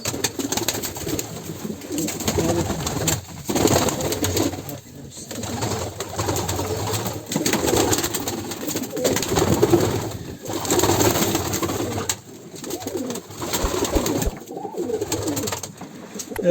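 Pigeons coo steadily in a busy, noisy space in a village, their soft calls layered under a continuous hum with some faint voices.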